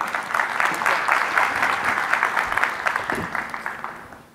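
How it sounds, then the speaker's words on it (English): Sustained audience applause at a tech keynote stage event, steady dense clapping throughout at a moderate, even level before speakers begin. "Please give them a round of applause."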